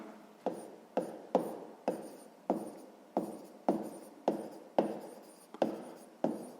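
Handwritten answer to a sixth-grade maths exercise, a pen or pencil scratching on paper in about a dozen short, regular strokes, close and quiet with no talk.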